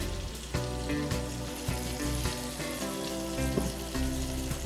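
Sausage frying in its own grease with a little flaxseed oil in a cast iron skillet, a steady close sizzle and crackle running continuously under faint background tones.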